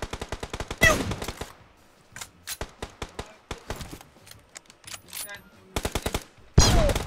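PUBG gunfire comes as rapid bursts of automatic shots, some loud and close and others lighter and quicker, with short pauses between the strings of fire.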